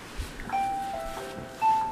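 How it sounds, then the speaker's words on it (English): An alarm sounds as a few faint, clear electronic beeps at a steady pitch over quiet background noise, brief and close by. "That's my alarm."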